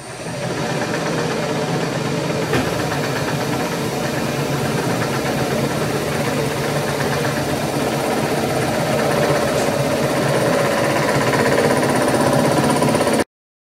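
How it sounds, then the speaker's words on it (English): A powered lathe making a very light skim pass on a slotter attachment build part, a steady continuous machining drone with motor hum that holds at an even level throughout, with no talk. "we'll take off a very light skim pass"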